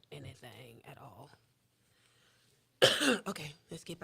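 A man hosting a live talk show coughs, with short dry bursts that come after a moment of quiet and a brief bit of his voice at the start, recorded close.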